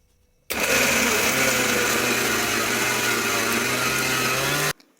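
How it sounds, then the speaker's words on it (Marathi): Mixer grinder whirring a paste of green chillies, ginger, cumin, coriander and salt, starting abruptly and running as a loud steady motor drone for about four seconds before cutting off. "थोडी अद्रक जिरं आणि कोथिंबीर घालून थोडं मीठ पण घालायचं त्यामध्ये आणि त्याचं बारीक वाटण करून घ्यायचं"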